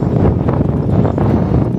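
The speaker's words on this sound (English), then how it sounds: "it's very blustery again, very windy" Strong gusty wind on the Isle of Skye roars and buffets the microphone in a steady, loud rumble throughout, with no voices.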